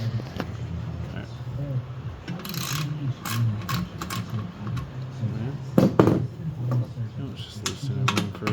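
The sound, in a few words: Loosening bolts on a 1981 Yamaha QT50 moped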